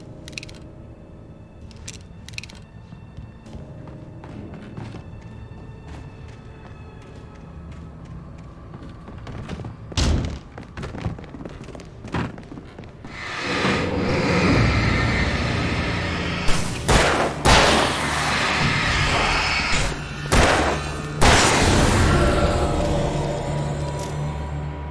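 Flashbang grenades going off in the video game Alan Wake, a series of sharp blasts and bursts over a droning game soundscape, with a dense loud stretch of explosive noise in the second half.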